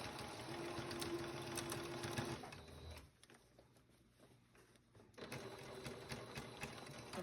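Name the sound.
sewing machine stitching a doll garment seam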